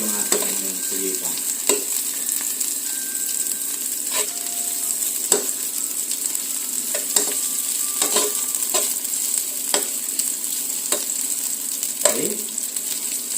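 Garlic and onion sauté in a hot pan for octopus adobo with ginger, a steady close sizzle broken by repeated stirring scrapes of a utensil, with a brief spoken word.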